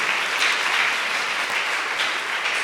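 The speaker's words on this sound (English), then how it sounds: "clap hands" A congregation at an English Catholic confirmation Mass claps together in a sustained round of applause, moderately loud, with a couple of slight swells and no talking.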